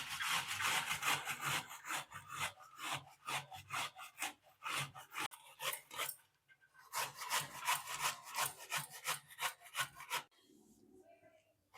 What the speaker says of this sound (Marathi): आता किसून घेऊ.